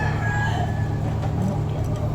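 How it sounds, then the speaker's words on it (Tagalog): Chickens cluck close by over a steady low hum, with a few brief calls rising above the background. "Manok yan."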